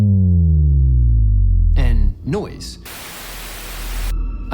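White noise from the DOOM soundtrack's sound design: a loud burst of broadband hiss that cuts in after a stack of gliding, falling sine tones and some warbling electronic sweeps, with no voice.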